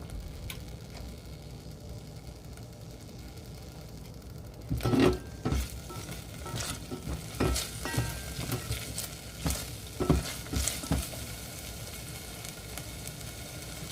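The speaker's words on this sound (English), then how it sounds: "Saute again until it's brown." Ginger sautéing in a pan for simmered tuna paksiw, a faint steady sizzle broken by a run of sharp clacks and scrapes of stirring, close and quiet, with no talk.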